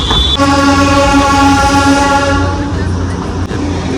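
A Darjeeling toy train rolls into Ghum station with a sustained, horn-like tone lasting about two seconds over a steady mechanical rumble.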